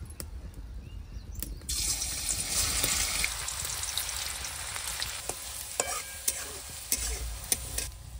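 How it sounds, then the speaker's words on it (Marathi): Onion sautés in two spoons of oil in a kadhai, a crackling sizzle swelling after a spoon clatter, with intermittent scraping and stirring taps over a steady moderate frying hiss. "आता पहिले कांदा परतून घ्यायचा आहे"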